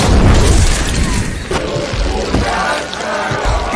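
A loud explosion of gas canisters placed inside a microwave in a film scene: a heavy, booming blast at the start, followed by crashing debris and a rumbling roar.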